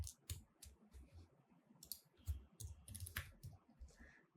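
Fingers type text on a computer keyboard in quick, irregular bursts of close clicks and key taps, with a few louder keystrokes and no speech.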